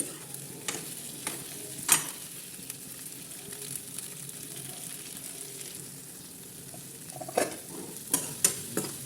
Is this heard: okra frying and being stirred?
yes